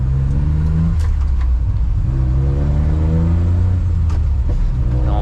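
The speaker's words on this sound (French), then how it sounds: "Donc, on va accélérer un peu." A small Japanese Kei truck accelerating along a road, its engine droning loud and close with rising pitch through a quick gear change, revving up again toward the end.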